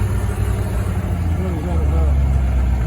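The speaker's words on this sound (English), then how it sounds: "Engine braking." A 1989 AM General Humvee engine brakes down a steep hill, a loud low drone of engine and drivetrain rumbling steadily close by, with no speech.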